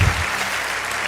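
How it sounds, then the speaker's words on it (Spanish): A church congregation breaking into clapping, a dense wash of applause that stays fairly loud and even for about a second, with no clear speech over it. "Si va a aplaudir a Jehová, hágalo con toda su fuerza, por favor"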